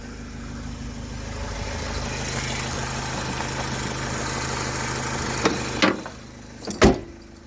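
A Renault Trafic van's engine idles steadily on a driveway at close range, with a low hum and two sharp knocks or clunks near the end, and no one speaks.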